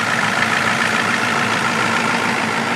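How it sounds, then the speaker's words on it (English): A 1994 Ford F250 diesel truck idling nearby, a steady rough clattering engine drone that holds evenly throughout with no talk. "Granted, it's a diesel, so you probably can't hear me at all."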